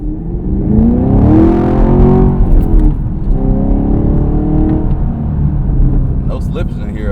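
Chevrolet Camaro LT1 engine pulls hard and loud from inside the cabin, its pitch climbing as the car accelerates through corners, then settling into a steady, strong drone, with a person speaking over it.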